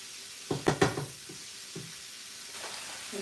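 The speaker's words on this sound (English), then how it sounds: "we'll just cook the salmon down" Salmon cooks in a hot pan with a low continuous sizzle, a quick burst of stirring or shifting clatter near the start, then quieter frying with occasional soft taps.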